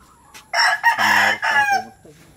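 A rooster crows loudly and close by in one long cock-a-doodle-doo call, with faint clucking from other chickens before and after.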